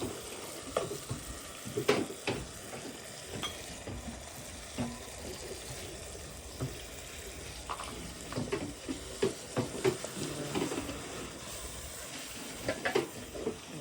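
Spices frying and being stirred in a home kitchen pan, with soft sizzling and intermittent scraping and clinking of a spoon against the pan, moderately close and fairly quiet throughout.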